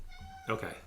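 A pet cat meows once, close by, over a steady electronic hum, interrupting an indoor recording, with a person briefly speaking as well.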